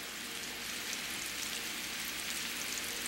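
Beef for stroganoff browning in a hot pan, a steady close sizzle with a bright, even crackle throughout.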